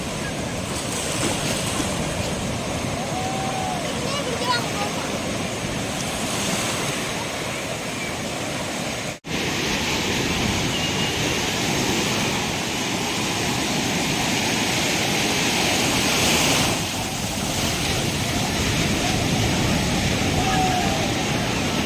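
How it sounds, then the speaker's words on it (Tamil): Sea waves break on Varkala beach in a continuous loud roar of surf, swelling and fading over about twenty seconds, with heavy wind buffeting the microphone and possible faint voices beneath. "அங்கே ஒரு வேவ் கிரியேட் ஆகி பெரிய அலையை எழுந்து வருது"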